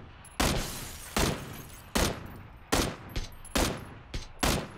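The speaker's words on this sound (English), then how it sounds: "Am I just shooting a dead guy?" Gunfire in PlayerUnknown's Battlegrounds: seven sharp single shots spaced roughly a second apart, loud and close, each with a short decaying tail.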